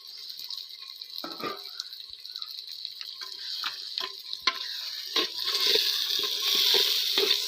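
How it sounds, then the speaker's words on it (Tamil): Tomato, ginger, garlic and chili sauté in a pan for coriander rice, giving a steady close sizzle with repeated scraping stir strokes that build louder toward the end, with no talking. "எல்லாம் இதில் நல்லா வதங்கட்டும்."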